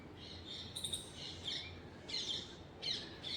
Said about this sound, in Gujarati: પક્ષીઓ ઉડી છે એ બધા કલબલાટ ચાલુ છે પક્ષીઓનો